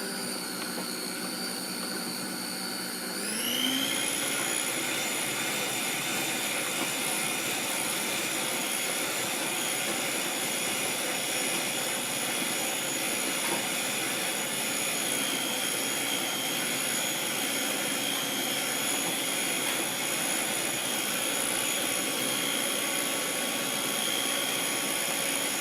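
An electric mixer blending batter with vanilla flavoring ramps up to high speed after a few seconds, then holds a loud, steady motor whine with no talking.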